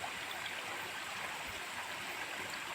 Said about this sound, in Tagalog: Cute ng talon.